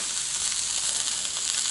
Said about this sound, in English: This is the nuts and bolts of cooking venison steak.